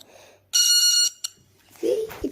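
A kids' electric kit buzzer sounds in one loud, shrill half-second burst followed by a short blip, close up, with brief faint voices murmuring before and after.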